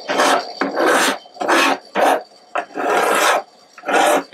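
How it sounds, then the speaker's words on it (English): A file rasps back and forth across a Gibson guitar fingerboard in steady, even strokes, about eight loud scraping passes with short pauses between, close and alone without talk. "you can tell by the sound of the file, the drill file, that there is no resistance, no snags or jags."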